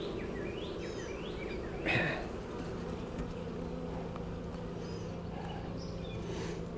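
Honey bees buzzing around an open hive during an inspection and split into a new box, a steady low drone that fills the clip with a few brief louder passes of individual bees nearby.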